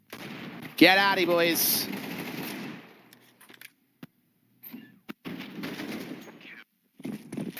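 Tech-9 pistol fire in Counter-Strike on the Nuke map at a Team Liquid versus ENCE match: a fast burst of sharp shots near the start, then sparse clicks and game noise as a voice speaks briefly.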